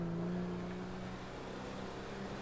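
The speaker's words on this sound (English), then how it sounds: "It's my buggy. It's awesome." A small buggy in XCOM: Enemy Unknown drives with a faint, steady engine hum that holds a constant pitch, quiet and unbroken, with no voices.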